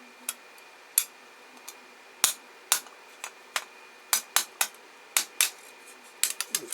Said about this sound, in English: quite often I'll bash it with these long nose pliers just to tap here, right on the bottom edge here